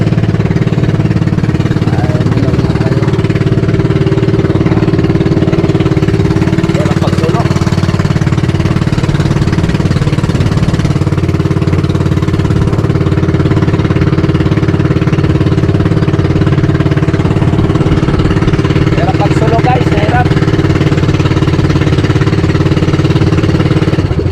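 A steady, loud boat engine drone runs throughout, with a low rumbling hum and faint knocking from a poorly running engine, continuous and close by.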